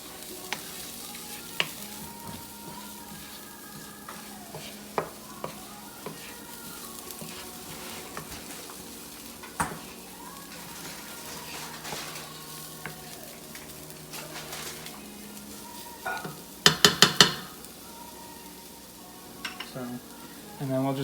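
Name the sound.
aromatics frying in a pan for lentil tacos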